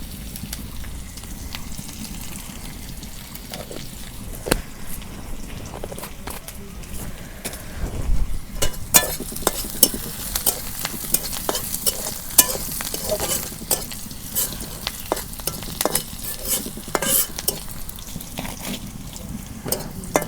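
Cumin seeds tossed into hot oil for a traditional Bengali village curry with bata fish and ridge gourd, crackling and sizzling steadily with stirring scrapes, growing busier and louder partway through, no talking.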